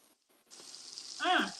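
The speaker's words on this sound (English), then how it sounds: "They love that sizzle." Steak sears in a hot pan with a steady hiss, swelling louder toward the end with a brief bright crackle, heard close with no speech over it.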